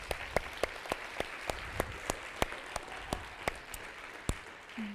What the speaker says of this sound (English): let's give Yvette a big round of applause